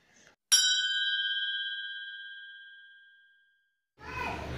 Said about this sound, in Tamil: பக்கத்தில் வர பெல் பட்டனையும் ப்ரெஸ் பண்ணிக்கோங்க